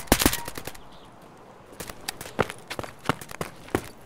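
Gunfire in the video game Escape from Tarkov, a quick rattling burst of shots at the start, then scattered single and paired shots at a distance, mixed with soft footstep-like shuffles.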